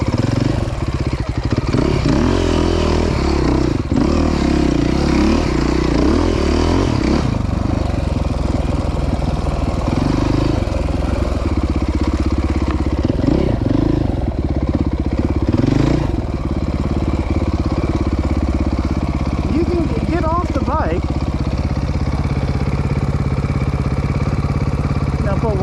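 A dirt bike stuck on a trail at Croom Motorcycle Area revs loudly and steadily throughout, its engine droning with uneven throttle surges while people talk over it.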